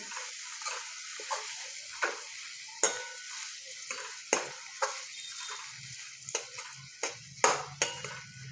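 A spoon scrapes and clinks against a pan while onion and tomato gravy for paneer curry is stirred, giving sharp, irregular taps over a faint steady sizzle, close and fairly quiet with no talking.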